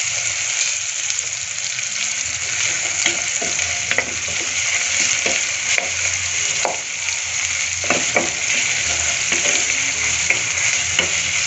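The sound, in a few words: spice paste frying in a pan with bay leaf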